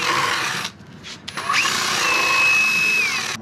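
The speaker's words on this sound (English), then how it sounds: "Scuff it up using a wire wheel." A wire wheel on a power tool scuffs metal truck parts during a farm truck custom build, a steady loud whirring grind with a brief dip partway through, then a sustained high whine until the end.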